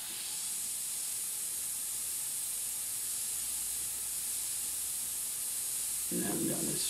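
A steady, continuous hiss of aerosol spray paint runs for several seconds, loud and close, with a faint voice-like sound near the end.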